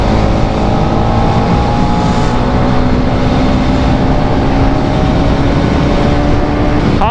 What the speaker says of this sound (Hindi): How are you liking the exhaust note of this bike?